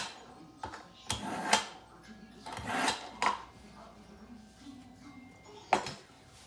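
Sharp knife carving tomahawk steak meat off the bone on a plastic cutting board, with a series of scraping, knocking cuts and clunks at uneven intervals, close and fairly loud, with faint talk in the background.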